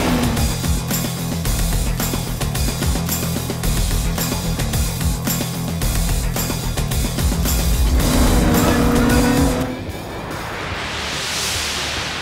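Porsche Stuttgart Cup cars, including a Cayman S 3.8-liter, and GT3 Cup race cars run at Daytona, a loud continuous engine roar with rapid pulsing passes and shifting pitch before fading toward a distant whoosh.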